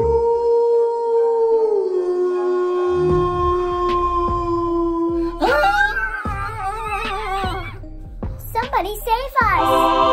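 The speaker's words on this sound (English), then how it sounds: "A wolf! A wolf!" A wolf howls in a dark forest: a long, sustained, slowly falling cry that carries for several seconds. It is followed by excited children's voices and a few short, wavering wails.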